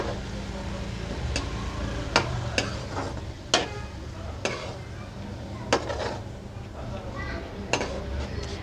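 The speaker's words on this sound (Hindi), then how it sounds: "वैसे कीमा तो ऐसे ही भून के तो जल्दी फ्राई हो जाता है" Minced keema is fried and stirred in a pan for aloo keema matar, a low continuous sizzle broken by periodic scraping clinks of a spoon against the metal pan, with a voice talking over it at times.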